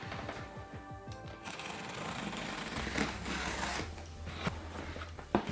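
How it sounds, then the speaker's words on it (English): A cardboard box of invertebrate-keeping supplies being opened up close, with scraping, tearing and rustling of the cardboard and packing that build into a continuous rough rasp, broken by a few sharper knocks near the end. "So let's open this box."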